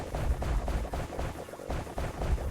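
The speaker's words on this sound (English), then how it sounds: "Another relatively early torpedo explosion." Torpedo explosions in the video game Wall World, a dense run of booming blasts and rumbling impacts that repeat steadily and loudly throughout, with no talking.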